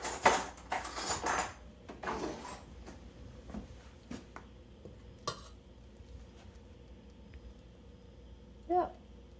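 A spoon scrapes and clinks against a pot of cooking almond roca, with a busy cluster of scraping at first, then sparse taps and one last clink, while a voice speaks faintly.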